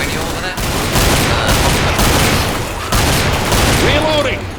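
Sustained rapid gunfire from Left 4 Dead 2 gameplay, loud continuous bursts with booming shots, a brief pause near the midpoint, and a voice calling out partway through.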